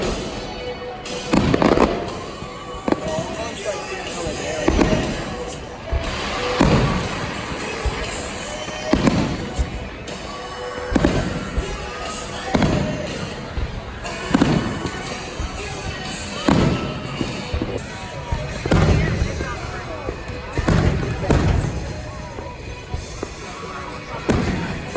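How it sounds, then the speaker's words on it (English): Fireworks burst in a loud, rapid series of booming explosions at a Fourth of July show at Knott's, with several displays going off at once, sharp thuds recurring every second or two over a crowd murmur. "So it looks like we got some dueling fireworks too"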